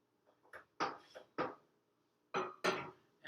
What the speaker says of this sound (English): I'm going to stir a little bit just to let the system equilibrate